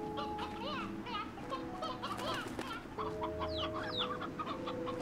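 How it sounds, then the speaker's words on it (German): Chickens cluck in the video game Slime Rancher, repeated short clucks and chirps over a steady hum, with someone talking under them. "diese neuen Hühner gefallen mir rein optisch"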